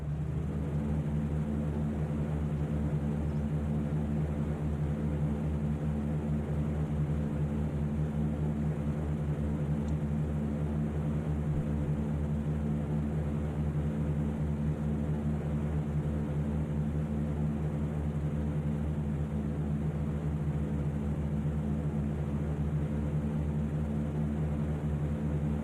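Droning propeller engines of a B-17 bomber in flight, from a flight video game, hold a steady low multi-engine hum with layered harmonics, constant and unbroken throughout at moderate loudness.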